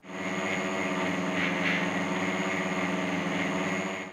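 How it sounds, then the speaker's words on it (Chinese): Traditional Supor high-speed blender grinding 50 g of raw soybeans with 500 ml of water: a loud, steady motor drone with a rough whirring texture that starts abruptly and holds for about four seconds, no voices. "先来听听看传统破壁机的噪音情况"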